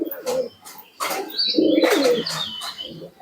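Red Madras pigeons cooing, a breed kept for sale, with several soft low coos, close by and moderately loud, with brief chirps mixed in.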